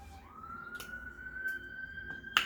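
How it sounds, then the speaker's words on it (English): A faint siren wails outside in the distance, one rising steady tone under quiet indoor background with small clicks. "who y'all hear them sirens?"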